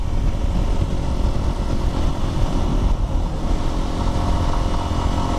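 A Lifan motorcycle being ridden, its engine droning steadily and loudly up close with a constant rumbling hum and no pauses, alone without talk.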